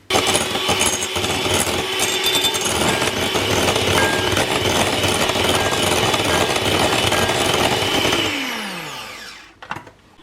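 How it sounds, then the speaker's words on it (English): An electric whisk runs in carrot cake batter in a home kitchen, a loud close motor whir with rattling beaters held steady for several seconds before winding down and stopping, followed by a light clink. "I think I'm going to get my whisk out again."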